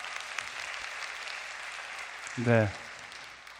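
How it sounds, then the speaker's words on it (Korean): A church congregation applauds during a young adults' service. Moderate, steady clapping runs through the clip, and a voice speaks briefly over it near the end. "박수 한번 쳐주시겠어요?"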